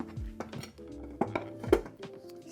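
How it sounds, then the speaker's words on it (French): A strawberry cake is turned out of its baking tin in a kitchen, giving a few close clattering knocks and clinks of the metal tin against a plate or counter, with short quiet gaps between the bumps. "on va passer à la séquence démoulage"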